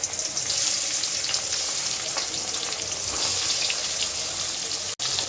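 River fish fried in a kadai at home produces a broad, steady hiss of sizzling oil close by, lasting throughout with a brief dropout near the end, and no one speaks.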